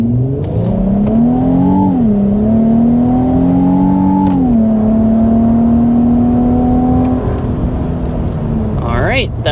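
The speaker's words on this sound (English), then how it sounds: "let's start with that hard acceleration" A 2026 Nissan Armada Nismo SUV with a 460 hp engine accelerates hard to 60 mph, its loud engine note climbing steadily through two upshifts and then holding a sustained drone, close and continuous throughout.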